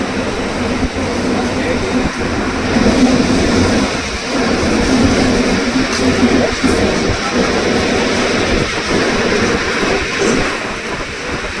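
A mountain train in Switzerland runs steadily, its loud continuous rumble and rattle heard from inside the carriage for about twelve seconds, with faint voices in the background.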